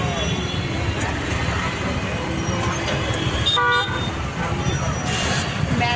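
Stop-and-go city traffic jammed beside metro rail construction, with a short car horn toot standing out over the steady rumble of engines and road noise, and people talking nearby.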